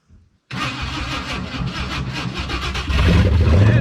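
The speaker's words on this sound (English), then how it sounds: "Hit the old starter key. Gotta give it some gas." Old 1969 or 1971 Ford F100 truck engine cranking over and firing up after sitting abandoned, starting abruptly after a short pause, then running rough and loud and revving up near the end.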